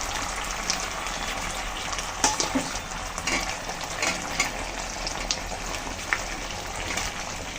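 Fried potatoes and soybean chunks sautéing in a yogurt and chili masala, a continuous wet sizzle with scattered knocks and scrapes of a spoon stirring in the pan; no talking.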